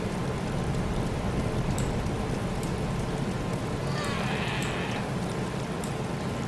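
Steady rain hisses continuously in the survival video game DayZ, a dense, even downpour on surfaces with faint scattered drops and no voices.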